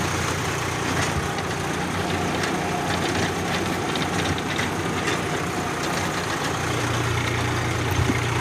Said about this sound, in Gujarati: કટર આવી રીતે કટિંગ કરી રહ્યું છે અને પાછળ આવું ચાલી રહ્યું છે